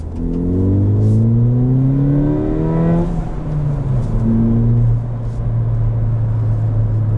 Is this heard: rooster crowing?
no